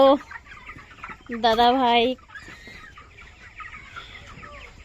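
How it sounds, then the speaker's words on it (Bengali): Half-grown farm chickens cluck and call, with a loud burst of squawking in the middle and softer clucks around it, while a person speaks briefly nearby. "এই যে দেখো মুরগি কত বড় হয়েছে"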